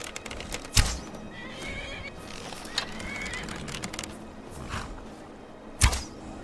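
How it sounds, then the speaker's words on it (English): A horse in Skyrim VR neighs and whinnies while fighting bandits, with hoof clip-clops, loud sharp thuds and impacts over a busy game soundscape and faint distant cries. "Is that horse fighting them?"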